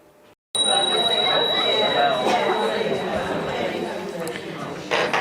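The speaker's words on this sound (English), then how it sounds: "I've moved across to the chimes recently" A bright, sustained chime rung by a trainer to end a group discussion, ringing clearly and slowly fading over a room full of overlapping chatter that keeps going underneath.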